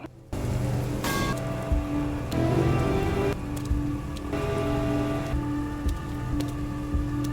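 Morning rain falling during a fight: a steady, dense patter of rain on surfaces throughout, with a few sharper hits and tonal swells rising over it and no talk.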